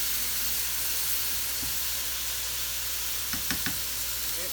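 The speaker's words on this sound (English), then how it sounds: "Now it's time to add in some garlic." Garlic, about two spoonfuls, sizzles in a pan while frying for fried rice: a steady, even hiss runs throughout, with a few soft clicks and knocks near the end and no talking.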